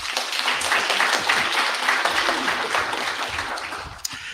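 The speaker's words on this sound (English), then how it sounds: "Let's give Dr. Dobbs another round of applause." Audience applause at a gathering of pastors and faith leaders, a dense patter of clapping that stays fairly even and thins near the end, with a sharp single clap or knock just after four seconds.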